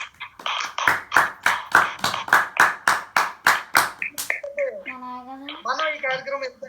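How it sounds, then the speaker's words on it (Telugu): People clap for the children at an online family worship gathering, a run of close, evenly spaced claps followed by a speaking voice. "big claps to all the kids"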